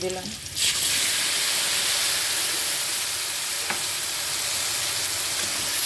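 Soaked ground spice paste hits hot oil with fried potato and green plantain for a Bengali folui fish curry, bursting into a loud, steady sizzle that fills the pan nearby, with a brief spoken word at the start.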